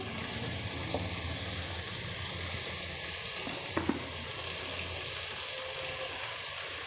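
Thinly sliced onions sizzle in hot oil in a pan for a mushroom curry, a steady close frying hiss with a couple of faint clinks from stirring and no talk.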